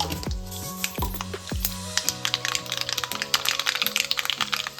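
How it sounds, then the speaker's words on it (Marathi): Mustard seeds crackle and pop in half a cup of hot oil during tempering for a shev bhaji, with dense, irregular bursts of sizzle and sharp crackles close up throughout. "फोडणी देऊन घेते"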